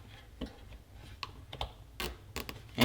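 A plastic zip tie pulled tight during a car bumper repair makes a series of quick ratcheting clicks, irregular and fairly faint, in short bursts against a quiet background.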